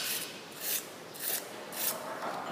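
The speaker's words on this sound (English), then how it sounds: "we have to scrub the surface of the magnesium ribbon with this sandpaper" Sandpaper scrubs a strip of magnesium ribbon in three rhythmic rasping strokes, close and fairly quiet, with no talk.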